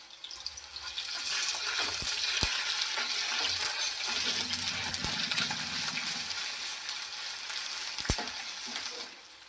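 Ginger garlic paste sizzling in hot oil with green chillies and onions, a steady loud frying hiss with occasional stirring clinks of a spoon against the pan.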